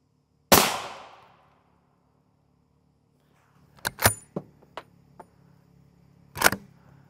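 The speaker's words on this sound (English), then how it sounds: "We're going to shoot more M2AP at this plate" M2AP armor-piercing rounds hit an RMA Defense Model 1155 Level IV plate: one sharp, loud rifle shot with a ringing decay, then after a pause a few quicker cracks and clatters, and a final sharp report.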